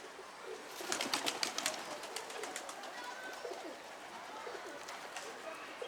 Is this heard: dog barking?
no